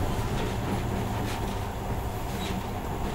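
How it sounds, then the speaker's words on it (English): A monorail train in the video game Metro Last Light gives off a steady, loud rumble and rattle of rolling wheels and carriage noise. The sound stays continuous and close throughout, with no talking. "In the past, trains were ordinary things. But now, this monorail seems magic, doesn't it?"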